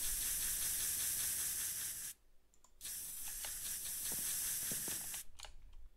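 A spray item in the Minecraft Hypixel video game hisses in long, steady bursts, broken by one short pause and then resuming alone at a fairly quiet level.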